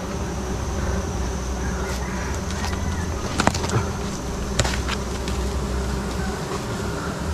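A dense swarm of bees drones steadily around a large honeycomb high in a tree, a constant loud buzz broken by a few sharp clicks and knocks.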